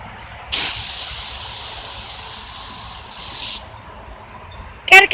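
A garden hose sprays water outdoors after a storm, a close hissing rush that starts abruptly, runs steadily for a few seconds, cuts out, then returns in a short burst, with brief noises at the very end.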